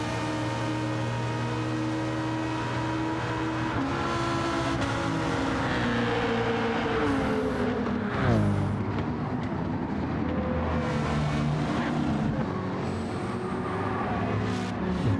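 GT3 race cars in Gran Turismo 7 roar steadily with high engine whine, gears shifting and pitch rising and falling as cars pass close by, a continuous loud pack of engines with no talking.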